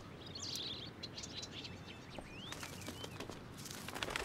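Birds chirp and tweet in quick, bright calls over a faint outdoor hush in Life is Strange: Before the Storm, a few distinct chirps early, then a cluster of scattered calls toward the end.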